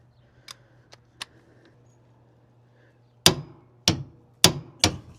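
A torque wrench tightens axle bolts on a travel trailer during an over/under axle lift conversion, giving a few faint clicks followed by four loud, sharp clicks at spaced intervals, with no talking.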